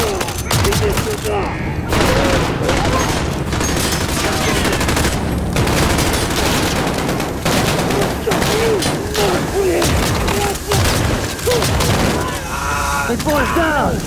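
Call of Duty: Modern Warfare gunfight: rapid, loud bursts of automatic gunfire and booming shots, close and almost nonstop, while a player talks over the shooting.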